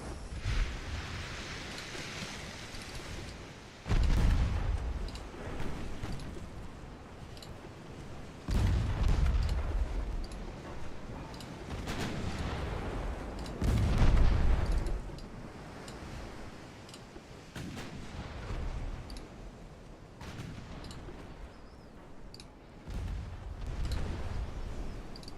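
Naval guns firing in the 1890-era warship game Ultimate Admiral: Dreadnoughts, a series of deep booming salvos every few seconds, each rolling off into a long rumbling decay over a constant sea-like wash.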